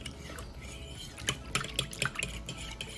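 A fork scrapes and clinks against a dish while mixing seasoning, a few light metallic taps and soft scratches, close and quiet with no talking.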